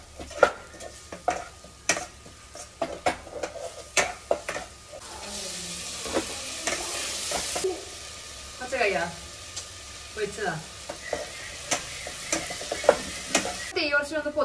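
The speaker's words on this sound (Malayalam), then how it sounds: "നമുക്കിനി മഞ്ഞളിട്ട് ജസ്റ്റ് ഒന്ന് വാട്ടിയിട്ട് നമുക്ക് തക്കാളി കൂടി ഇടാം" Turmeric and tomato sautéing in a home kitchen pan, with soft sizzling, a stretch of frying hiss, and repeated sharp clinks and scrapes of a spoon stirring, while someone talks briefly.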